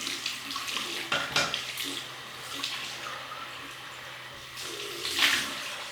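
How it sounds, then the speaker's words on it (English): Water runs from a tap as a face is rinsed with cold water after shaving, a steady splashing stream with hand-scooped splashes and a louder surge near the end. "Cold water rinse now."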